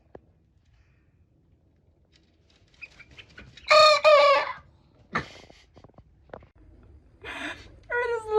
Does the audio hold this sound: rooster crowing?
yes